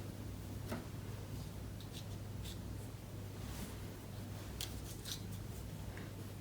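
Star and pine tree shapes are cut from Christmas ginger cookie dough, giving faint, scattered soft clicks and taps over a steady low hum in a quiet kitchen.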